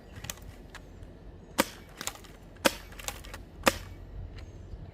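Nerf Sillybutts SLAB blaster firing X-Shot foam darts at a range: four or five sharp, dry clacking shots spaced about a second apart, each with a light woody snap and thud, close and alone.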